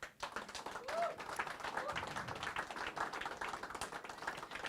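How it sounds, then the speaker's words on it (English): A round of applause from an audience at a cricket-related introduction event, fairly faint and steady for a few seconds with scattered voices underneath. "Round of applause."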